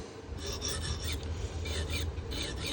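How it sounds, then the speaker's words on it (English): A soft, gritty scraping rasp repeats in short strokes over a low background hum, close but quiet: a fingernail catching the burr on a K390 steel knife edge during sharpening. "You can hear my fingernail catching that burr."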